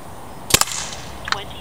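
A Byrna TCR less-lethal launcher fires at a laptop computer at about 29 joules, giving a sharp, loud crack with an instant snap of impact, then a fainter click a moment later.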